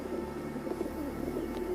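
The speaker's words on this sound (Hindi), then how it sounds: "मैं नाकारा कबूतरों को दाना क्यों डाल रहा हूँ?" Pigeons coo softly and repeatedly while being fed grain, a low burbling murmur at close range with no voices.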